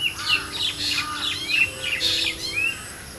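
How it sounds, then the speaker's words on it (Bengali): A black drongo calls outdoors with repeated sharp, bright chirps and whistled notes in irregular bursts, moderately near, over a faint steady background hum. "ছোট কিন্তু সাহসী পাখি এই কালো ফিঙে"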